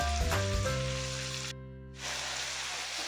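Vegetable stir fry for Nigerian fried rice sizzles steadily in a hot pan, a close, continuous frying hiss with a steady hum beneath that briefly cuts out midway before resuming.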